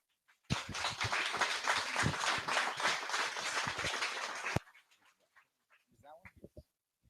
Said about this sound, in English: please give a round of applause for Brian Grana